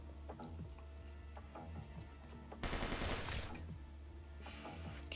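Short bursts of automatic gunfire from an AI soldier in a Mars video game, with a quiet ticking rhythm first and then two loud rattling volleys near the end.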